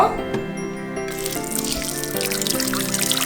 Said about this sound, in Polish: na samym początku do pojemnika wlewamy 250 g ciepłej wody